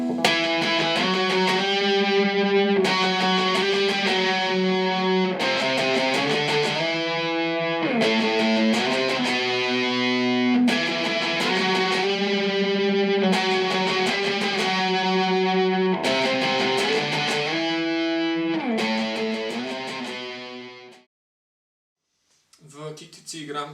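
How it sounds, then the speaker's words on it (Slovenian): An electric guitar played through a distortion effect from the amplifier or a pedal strums a repeated chord progression in loud sustained bursts. It cuts to silence near the end, followed by a faint brief sound. "z distorzijo se sliši nekako tako"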